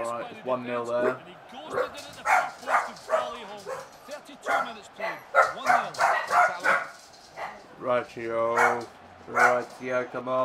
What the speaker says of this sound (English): Sorry about the dogs. They're just barking at someone walking past the door.